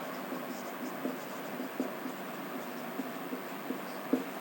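Someone writes a formula on a board with a series of quiet scratchy strokes and light taps, spaced irregularly over low room hum.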